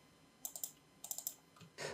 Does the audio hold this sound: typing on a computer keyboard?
yes